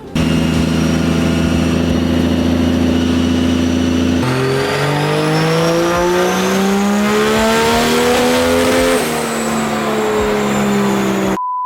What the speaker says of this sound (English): as you heard that last run, we had some breakup in the exhaust